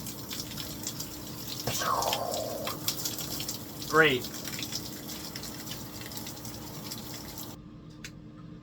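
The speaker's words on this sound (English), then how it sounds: "In the shower." A shower runs with a soft, steady hiss of water in the background while someone talks quietly over it.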